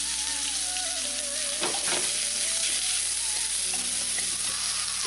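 Chili peppers and aromatics fry in a pan for Vietnamese caramelised pork, a loud, continuous close-up sizzle with crackling pops and a few scraping stirs, no talking.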